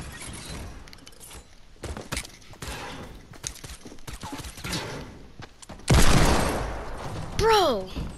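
Gunfire from a gun in a video game, scattered sharp shots and bursts in uneven bursts, louder toward the end, with game effects and other noise between.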